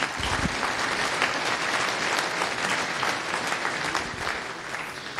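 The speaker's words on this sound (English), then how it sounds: "So round of applause for Pascal." Steady, sustained applause from a conference audience welcoming a speaker on parallel programming, dense clapping at an even volume without pause.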